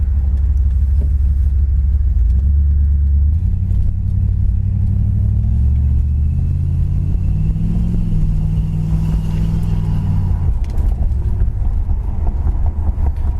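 A 1970 Plymouth Satellite drives along with a deep, loud engine rumble, the V8 note rising and falling in pitch as it accelerates and eases off, heard close and continuous.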